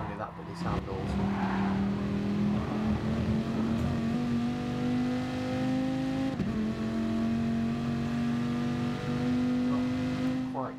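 A Dodge Viper's engine drones and revs in the GT Sport racing game, a sustained loud buzzing tone that climbs and holds steady with brief shifts, while a commentator talks over it.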